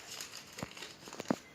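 Quiet crinkling and a few sharp creases of a square sheet of paper being folded into a paper boat close up, with soft rustles between two louder crisp snaps.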